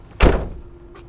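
Gas bottle storage locker door on a Malibu Charming 640 camper van swung shut with a single firm thud, followed by a brief faint rattle.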